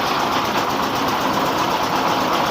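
A 24 hp Dompeng diesel engine drives a rice milling machine, a loud, close, steady mechanical drone with a fast chugging pulse and rattling whir running evenly throughout, no voices.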